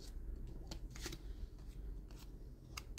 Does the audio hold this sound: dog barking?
no